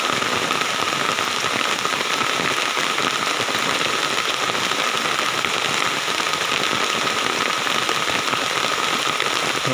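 Steady rain pours down at Burayok Mini Falls in Gattaran, Cagayan, a dense continuous patter of drops hitting surfaces, close and fairly loud with no voices.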